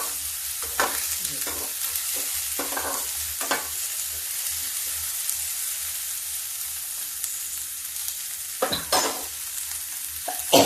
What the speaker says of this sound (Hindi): अब इसको भी इसी के साथ हल्का ड्राई रोस्ट करना।